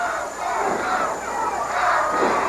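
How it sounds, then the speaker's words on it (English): Packed wrestling arena crowd at the Irish Manil Boys Club roaring for Terry Taylor during a mid-1980s Mid-South match, a loud continuous wall of cheering and shouting that swells in waves. "listen to the fans. They're really behind Terry Taylor."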